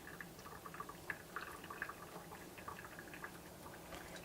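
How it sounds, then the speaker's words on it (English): Water being poured off a pot of cooked brown jasmine rice into a strainer, a soft continuous liquid trickle with small splashes and drips, close and fairly quiet, with no talking. "carefully move your rice from the stove and gently pour out the water"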